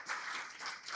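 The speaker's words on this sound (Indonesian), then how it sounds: "Boleh tepuk tangannya semua." Audience clapping at an Indonesian media briefing by an Indigenous peoples' coalition in West Kalimantan, a short, moderately quiet burst of scattered applause in a room.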